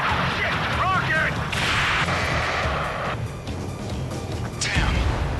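A rocket explodes in the Ace Combat 7 flight combat game, heavy booming blasts and sharp cracks over a constant jet roar, with bursts of radio chatter woven between the impacts.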